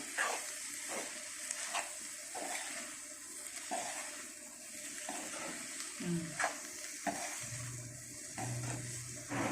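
A small bitter gourd curry gets mixed with coconut powder in a pan, bringing soft scraping and tapping stirs at an irregular rhythm over a low sizzle, fairly quiet with no talking.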